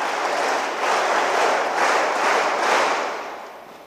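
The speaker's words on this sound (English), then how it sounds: "So a huge round of applause to SP sir also for the great work he has done and he is doing" A large audience applauds at a public address honoring an SP officer, a dense continuous wash of clapping that swells in waves and fades slightly toward the end.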